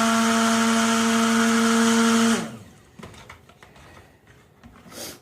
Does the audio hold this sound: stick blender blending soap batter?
yes